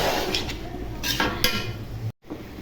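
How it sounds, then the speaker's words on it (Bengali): Beans and radish are stir-fried in a pan, a low sizzle under scraping and clinking of a spatula on metal, stirring in short strokes with a brief pause near the end. "কেটে রাখা মূলাগুলো দিয়ে দিব নেড়ে চেড়ে ভেজে নিব"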